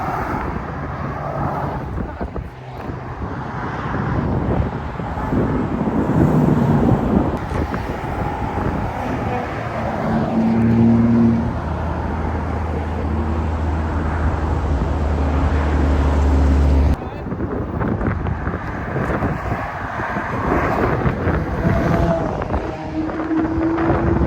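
A red McLaren 570 driving past on a Normandy motorway: a deep engine drone and road roar swell mid-clip amid constant wind noise and passing traffic, with occasional voices nearby.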